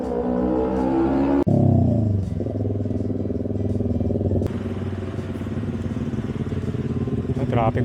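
Congested street traffic near a road construction project, with motorcycle and car engines idling and revving close by under a continuous roar of vehicles, plus a sharp clatter midway.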